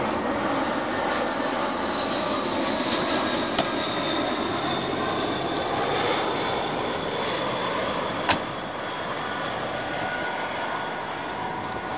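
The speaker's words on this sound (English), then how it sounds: "A perfect timing, a plane's coming over, so we're right close to the airport" A loud, steady airplane engine roar fills the air as a plane passes close overhead near a California airport, with a couple of sharp clicks along the way.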